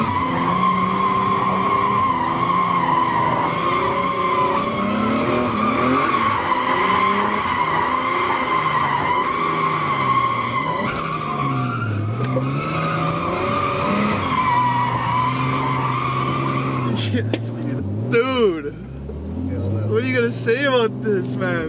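Cars drifting on a track give long, loud tire squeals over revving engines, the pitch sliding and wavering until the squeal breaks off into rough engine and gravelly noise, with people talking over it.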